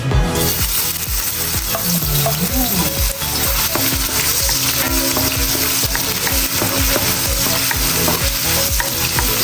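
Hot oil sizzling loudly and continuously in a pan while ingredients are sautéed for homemade goto rice porridge, with repeated stirring scrapes and clinks throughout.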